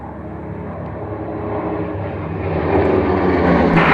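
A very small propeller aircraft rolls out, its engine droning loud and close and building steadily in power as it moves off.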